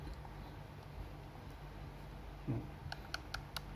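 A few quiet, sharp mechanical clicks of a Yashica Electro 35 GT camera shutter firing come in a quick irregular series against faint background hiss.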